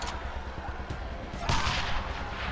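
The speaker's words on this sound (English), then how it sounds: "Pipe bomb out!" Pipe bomb blast in the video game Wasteland 2, with a heavy thud at the midpoint following a run of lighter shots and booms over steady game background.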